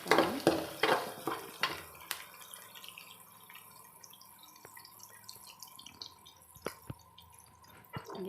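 Onions sautéing in a pan for Karnataka-style lemon rice (chitranna): a few sharp spatula clinks against the pan open the clip, then a soft, steady sizzle and occasional stirring scrapes follow, fairly faint and with no talking.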